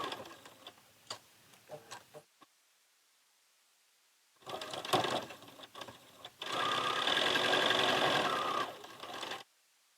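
A sewing machine stitches across a quilt block in close, steady mechanical bursts, with a short run, a pause, then a longer sustained stretch of rapid stitching.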